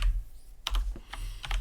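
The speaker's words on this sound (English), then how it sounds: "I can type, I swear." Short bursts of clicky typing on a computer keyboard while entering dice rolls for a tabletop character, a few quick keystroke clusters close to the mic with no talking.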